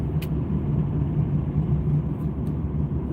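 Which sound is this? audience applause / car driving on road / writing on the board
car driving on road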